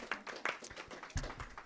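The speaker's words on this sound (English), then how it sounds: "Round of applause." A handful of scattered claps from a small audience at a photography awards judging session, sparse and uneven, with a low murmur underneath.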